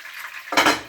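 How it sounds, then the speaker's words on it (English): Jamaican fried dumplings made with milk sizzling in a pot over a low flame, a quiet hiss that suddenly swells into a louder close crackle partway through, with no talking. "when you're frying dumpling"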